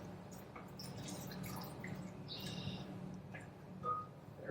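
Warm skim milk pours into a rice bread mixture with faint, close trickling and dripping, quiet against a soft background hum.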